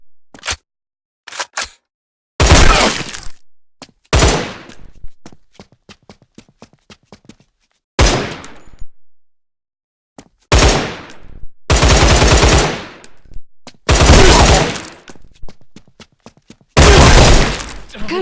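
Video game gunfire in a Line of Sight shooting tutorial, fired at targets. Loud bursts of automatic fire and single shots are separated by short silent gaps.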